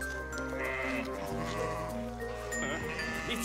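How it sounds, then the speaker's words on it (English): Several sheep bleat repeatedly over a steady low hum, their wavering cries overlapping at moderate volume. "It's a sheep stampede."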